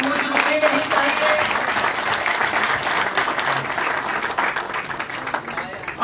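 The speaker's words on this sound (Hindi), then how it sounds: "आपकी तालियों की गूंज रुकनी नहीं चाहिए।" Sustained, dense applause from a crowd at a Valmiki Samaj celebration held at BJP headquarters, loud and steady for about six seconds, with some voices mixed faintly into the clapping.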